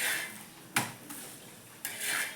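A kitchen plate handled at home, giving a few sharp clinks and knocks spaced out over quiet, close and fairly faint, no talking.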